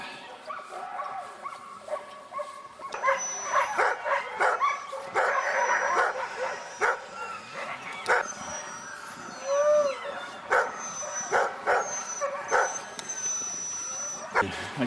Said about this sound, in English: we're now going to go and say hello to the dogs